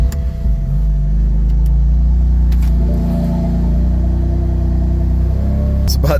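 A BMW F8X engine is cranked and runs at a steady idle in a workshop, a loud low rumble that holds evenly through the clip, with a few faint clicks and clatters near the start and end.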